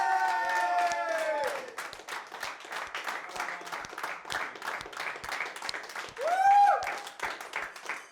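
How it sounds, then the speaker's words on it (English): Audience applause in a room, a patter of scattered claps beneath chiming, swelling musical tones and brief voices, lasting several seconds. "we should give a massive round of applause to Richard and Geordie for their great leadership"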